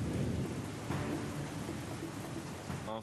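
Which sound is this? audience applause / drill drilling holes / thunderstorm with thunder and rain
thunderstorm with thunder and rain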